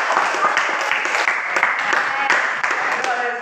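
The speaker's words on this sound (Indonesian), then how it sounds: "Kasih tepuk tangan." A classroom group applauds a score, with steady, dense clapping from many hands filling the whole stretch at fairly loud level, with no clear speech over it.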